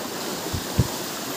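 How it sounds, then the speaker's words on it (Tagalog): A strong mountain stream rushes hard, a steady close wash of churning water with one brief louder surge in the middle. "Sobrang tindi yung lakas ng tubig."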